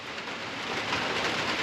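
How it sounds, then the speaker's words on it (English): Heavy rain pouring down outdoors, a dense, even hiss of countless drops hitting surfaces, steady and fairly faint throughout, with no voices. "Looks like the rain's not going to stop, and honestly, I can't stay here all day in the pouring down rain."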